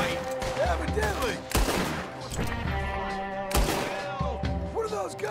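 Gunfire rings out in the western video game Red Dead Redemption 2: loud, sharp shots cracking at irregular intervals amid busy background game sounds.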